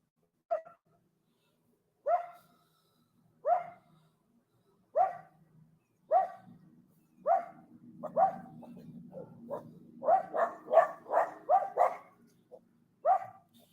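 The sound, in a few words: dogs barking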